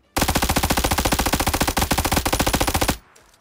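An MP5K submachine gun in PUBG Mobile fires a long, steady automatic burst at a UAZ vehicle, loud and close with rapid evenly spaced shots for nearly three seconds before cutting off into quiet.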